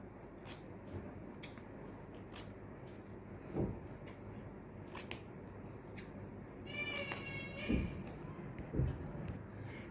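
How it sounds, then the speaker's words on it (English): Scissors snip paper into small squares for handmade paper jewellery, with sharp, irregular cuts close by and a brief higher animal-like cry midway. "just cut out some small squares"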